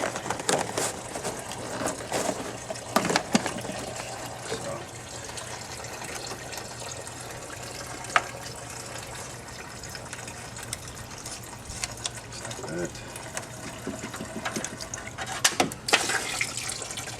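Coolant drains and trickles steadily from the engine of a 1996 Chevrolet Impala SS during a water pump job, with a continuous liquid splash, scattered drips and a few louder clanks and knocks.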